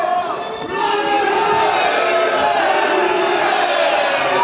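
A packed arena crowd at the Helix roars through a Cage Warriors 65 cage fight between Damien Rooney and Bryan Creighton, a loud sustained cheer swelling after a brief lull, with voices shouting within the mass.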